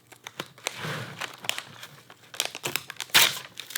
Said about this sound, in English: now I have an easy way to peel my next piece of tape off of this roll